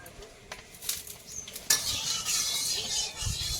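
Oil goes into a hot kadai after a few light metal clinks and scrapes of a utensil, then a sudden bright sizzle bursts up and keeps hissing steadily to the end, with no voices.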